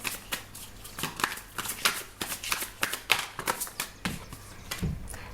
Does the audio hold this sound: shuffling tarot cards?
yes